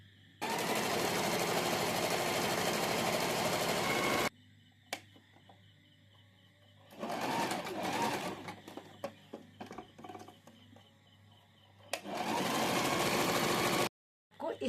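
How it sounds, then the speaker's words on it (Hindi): A sewing machine stitches a collar in three loud, steady bursts of whirring, separated by quieter pauses filled with small handling clicks. "अब मैं इस पे इस तरह से सिलाई लगा दूंगी, ऐसे और ऐसे इस पे सिलाई लगा दूंगी।"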